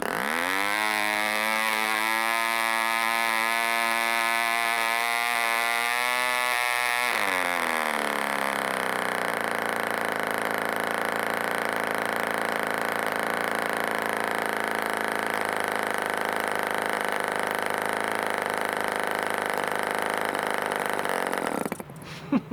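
A home-built 1947 Westbury Atom Minor MkIII 6cc model engine running on glow fuel buzzes steadily and loudly, dropping to a higher, smoother drone after a few seconds, then cuts off abruptly near the end.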